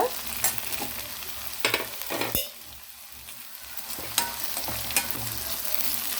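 Okra (bendakaya) frying in a pan, a close sizzle broken by sharp scraping stirs at irregular intervals, the frying hiss dipping briefly midway before the stirring resumes.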